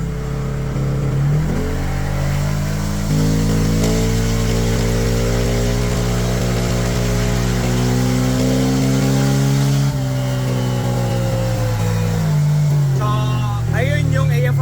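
A Yamaha MT8 motorcycle idles with a steady, loud low rumble and firm pulsing harmonics, the pitch dipping and rising slightly a few times, with a short voice near the end.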